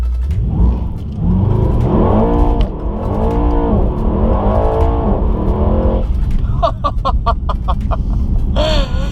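A Mercedes in drift mode revs hard in a failed standing burnout attempt, a loud close engine roar rising and falling in repeated surges, ending with rapid clicking and whirring.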